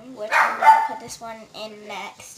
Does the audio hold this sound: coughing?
no